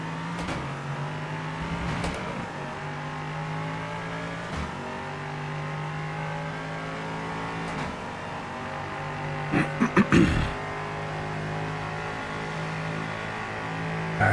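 Race car engines in the iRacing video game, a continuous whining motor tone with shifting pitch and a few sharp clicks and bursts near the end, fairly steady and moderately loud.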